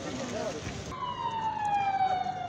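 An ambulance siren at an earthquake rescue site wails with a falling tone, fairly loud and close, over a rough background of wind and crowd noise.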